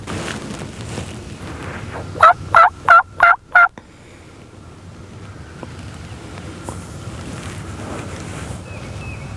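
A wild turkey gobbles in a quick burst of four or five loud, rattling notes out in the woods during a hunt, followed by a quiet stretch of wind and distant background noise.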